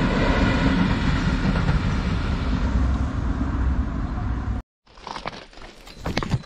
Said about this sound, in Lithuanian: Toks va traukinukas atvažiuoja